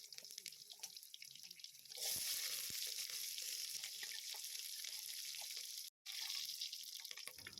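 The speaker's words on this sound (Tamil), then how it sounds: "இந்த மாதிரி எடுத்து ப்ரானை வந்து நல்லா ஃப்ரை பண்ணி எடுத்துக்கலாம்" Prawns fry in a pan with a steady broadband sizzle that begins abruptly after two seconds and holds loud and continuous, briefly cut once near the end, with no talking.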